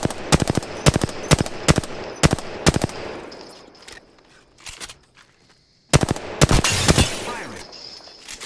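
Rapid automatic gunfire in Apex Legends rattles off in tight bursts, pauses briefly, then resumes with another loud volley close up.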